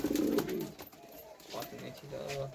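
Fancy pigeons coo softly in the background under a man's nearby speech, low murmuring calls heard faintly around the talk.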